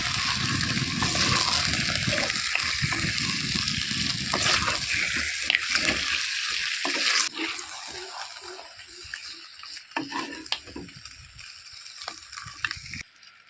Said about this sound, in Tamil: தண்ணி சேர்த்துக்கிடுவோம்.